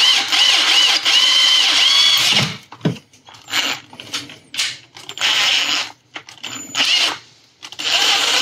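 A power drill bores into a plastic part of a 1/60 NeoGrade Sazabi model kit, its motor whining steadily up close before breaking into short, uneven bursts of grinding with brief pauses between them.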